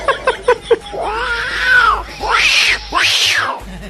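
A human voice imitates an angry cat yowling, with a few short sharp sounds followed by three long rising-and-falling caterwauls, loud and close, in a comic storytelling routine.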